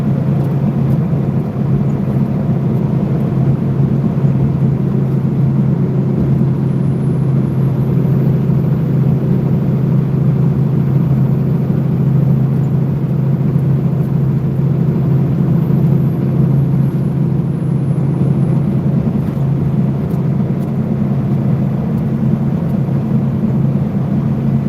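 Steady, loud low rumble of highway traffic and engine drone heard from inside a truck cab, continuous and unbroken with no voices throughout.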